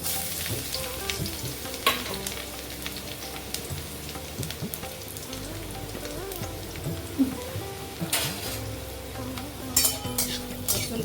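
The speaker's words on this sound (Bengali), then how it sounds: "একটু ভাজা ভাজা করে নিচ্ছি" Chili and garlic fry in oil in a wok with cumin seeds and a bay leaf, a close, steady crackling sizzle with occasional louder spatters and stirring scrapes throughout.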